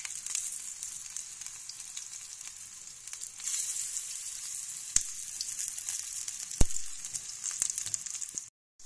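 Shiuli flower fritters fry in hot oil with a steady, bright sizzle, broken by a few sharp clicks, before the sound cuts out at the very end.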